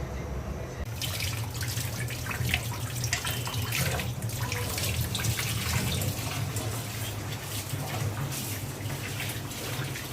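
Tap water runs steadily over hilsa fish being washed, a continuous close splashing with a low gush and crisp spattering throughout, no voices.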